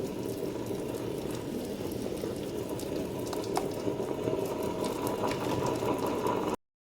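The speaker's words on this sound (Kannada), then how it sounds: "ನಾನಿಲ್ಲಿ ಬೆಲ್ಲದ ನೀರು ಹಾಕಿ ಇದನ್ನು ಗ್ರೈಂಡ್ ಮಾಡಿದ್ದು" A mixer grinder churns jackfruit batter mixed with jaggery water, giving a steady, continuous motor whir with a wet, sloshing grind that holds even throughout before cutting off abruptly.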